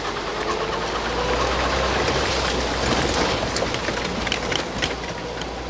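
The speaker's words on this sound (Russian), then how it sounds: "там вот шумит река" A river rushes with a steady, dense roar near a forest campsite at night, constant and fairly loud throughout, with faint scattered ticks and crackles on top.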